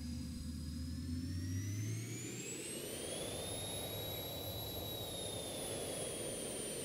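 Vision Jet taking off in the X-Plane 11 flight simulator: a steady, loud jet engine roar with a high whine whose pitch climbs and then holds, running continuously with no talking.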